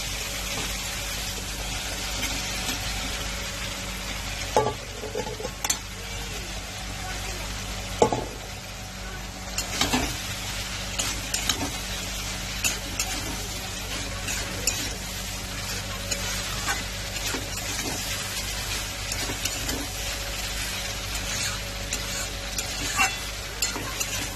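Potatoes and soybean chunks sizzle in spiced oil in a pan while a spoon stirs them, a steady close fry with scattered scraping clinks of the utensil against the pan.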